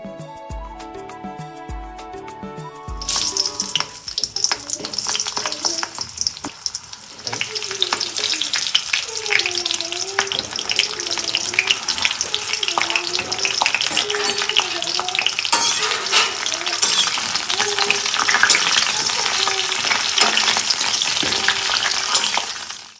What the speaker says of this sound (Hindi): इधर मिर्च को हमने छौंक दिया है।